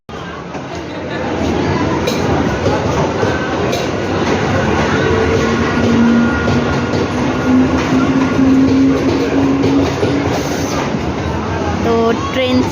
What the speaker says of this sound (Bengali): আর অলরেডি ট্রেন ঢুকছে